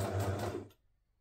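A home sewing machine stitches fabric for a coat, a quiet, quick, close mechanical whir that stops abruptly after under a second, then silence.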